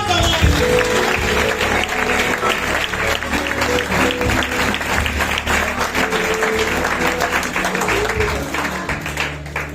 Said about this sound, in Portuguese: Se a igreja concorda, dê um forte aplauso.